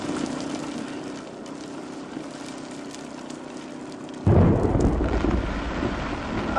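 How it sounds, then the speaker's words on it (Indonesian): Thunderstorm with steady rain hissing in the background, then a loud, close crack and rumble of thunder that swells suddenly near the end. "Sekarang lagi hujan."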